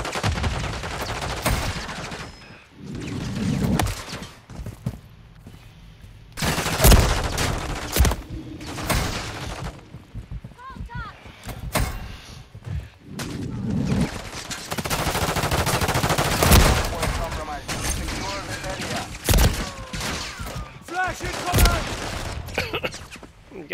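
Call of Duty gameplay with repeated bursts of automatic gunfire and single shots, loud and dense at times, mixed with explosions and game effects while players talk excitedly over the action.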